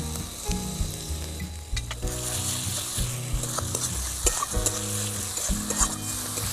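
Spiced masala frying in oil in a pan, with dried chilli powder and lemon juice, sizzles steadily at close range while clattering stirs and scrapes land in an irregular rhythm, and faint background music plays beneath.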